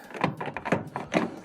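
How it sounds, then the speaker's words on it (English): An LG washing machine's detergent drawer slides back into its housing with about four short, hollow plastic thunks and rattles, close by and moderately loud. "Slide our drawer back in."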